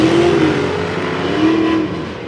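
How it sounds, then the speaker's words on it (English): A '41 Willys gas coupe and a '32 Ford five-window launch side by side at a dragstrip reunion, their engines roaring loud and close in a sustained, rising blast with no voices. "Willys launches like a race car. The Ford 5-window launches like a street rod."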